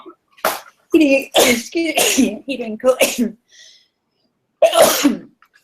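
A person sneezes once, sharply and close, after a stretch of speech; talking precedes it with a short pause.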